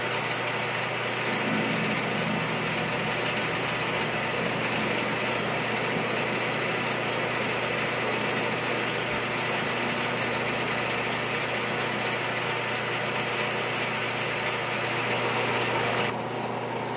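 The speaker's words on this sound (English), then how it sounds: "Just going to face off the bolt to the proper dimensions now," A lathe faces off the end of a stress-proof steel bolt, giving a steady, loud mechanical hum with a constant machining whir that runs unbroken from start to finish, with no talk.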